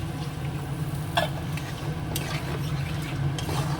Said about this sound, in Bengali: আগে কষিয়ে নেওয়া হয়ে গেছে এবার দিয়ে দেবো জল